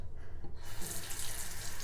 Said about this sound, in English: as the water is running, I'm going like this so all that product can come out